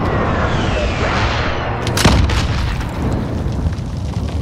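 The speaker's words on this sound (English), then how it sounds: "Be advised, friendly precision airstrike inbound." Precision airstrike explosions in Call of Duty Modern Warfare, a heavy booming blast landing around the middle with rumbling bursts and debris trailing after it over continuous low battle noise.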